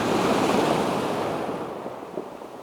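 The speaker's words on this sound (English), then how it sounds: "the waves are hitting them quite nicely" Ocean waves washing against rocks at sunrise, a close broad surging roar that gradually recedes and fades, with some wind on the microphone and no talking.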